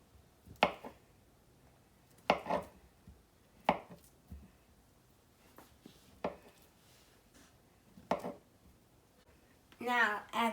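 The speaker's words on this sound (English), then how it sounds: "Now I have to cut my last banana that I had to break because" A knife cuts through a banana on a board while making a strawberry banana smoothie, giving about six sharp, separate chopping taps at irregular intervals, close and fairly quiet, with a brief rustle at the end.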